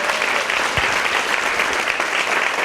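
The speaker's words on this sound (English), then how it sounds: "Let's have a round of applause for that." Loud, full round of applause from an event audience for a panel, dense, continuous clapping close by with no breaks.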